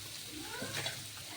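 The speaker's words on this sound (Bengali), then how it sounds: "এই যে আমি আলুটা ভেজে নিচ্ছি" Potatoes frying in a pan, a faint continuous sizzle with a soft stirring scrape in the middle, quiet and brief.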